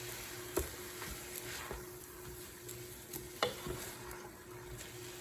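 Vinegar sizzles and hisses steadily in a hot pan for fennel and garbanzo bean soup while a utensil stirs it, giving a few soft scraping knocks over the constant frying.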